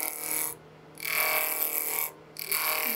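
A spindle roughing gouge cuts a wooden egg blank spinning on a lathe at about 2400 RPM, producing loud, hissing, rough cutting bursts broken by two brief pauses over a steady machine hum.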